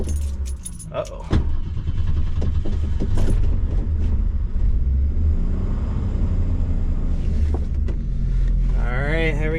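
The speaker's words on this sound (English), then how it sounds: "You can see it starts up. Sometimes not too happy, but she runs." A 1973 Ford Maverick engine cranks and catches, then runs with a steady, somewhat rough low rumble close by, with a jangle of keys early on and a brief voice near the end.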